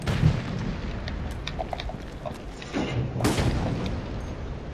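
Mines shot and exploding in the video game Resident Evil: Operation Raccoon City, a dense rumbling wash of booms and blasts with a louder burst midway, continuous and heavy.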